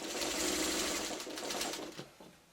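A sewing machine stitches a simple quilt block of squares and rectangles in a rapid, even mechanical whir, close and steady, slowing and stopping near the end.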